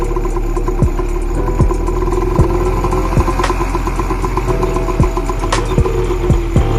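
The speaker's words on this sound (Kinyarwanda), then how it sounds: "Itegure guhagurutsa moto," A motorcycle engine runs close by during a riding lesson, a steady mid-pitched idle with rhythmic ticking and clatter as the bike prepares to pull off.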